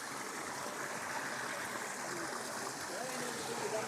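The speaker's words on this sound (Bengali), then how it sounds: "এই যে দেখতে পাচ্ছেন ঝর্ণা" A waterfall rushes over rocks into a deep rocky stream, a steady broad wash of falling water that holds even and unbroken throughout, fairly close and with no voices over it.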